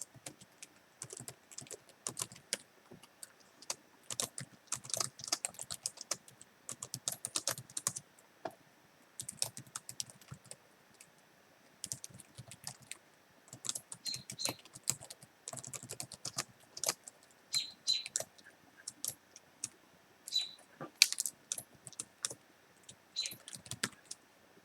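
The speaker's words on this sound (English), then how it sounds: "Let me just type this out and I will explain all this code" Computer keyboard typing while entering Angular code, steady bursts of close key clicks with short pauses between runs, no talking.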